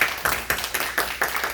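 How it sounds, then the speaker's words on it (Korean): A church congregation claps in encouragement for a recovering member during a worship service, with quick, even, fairly loud claps merging into a steady patter, and no voices. "우리 격려의 박수 한번 보내드릴게요"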